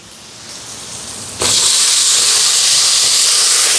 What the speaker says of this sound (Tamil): இப்போ வெங்காயம் எல்லாம் வதங்குது.